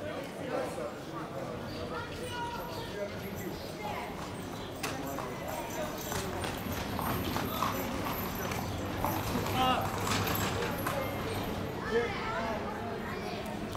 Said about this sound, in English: You've got the buggies and donkeys here.